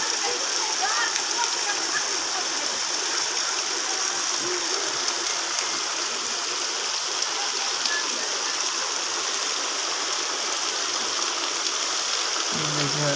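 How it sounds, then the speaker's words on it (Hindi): Heavy rain pouring down across a village, a dense, constant hiss of water that stays loud and even throughout, with faint voices talking underneath. "सुबह से बारिश हो रही है।"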